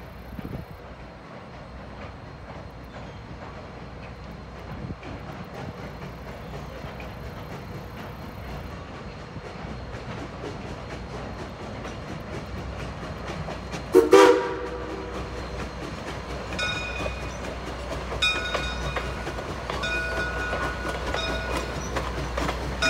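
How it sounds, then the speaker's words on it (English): A steam train rumbles past steadily, with a sharp horn or whistle blast midway and rhythmic clatter building toward the end. "Got the steam train running again."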